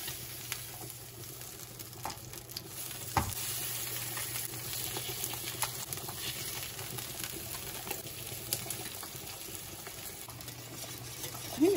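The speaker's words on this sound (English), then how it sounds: "I'm gonna add a little bit of oil to that same frying pan." Bratwursts frying in oil in a frying pan, a steady close sizzle and crackle with occasional pops and stirring clinks, no talking.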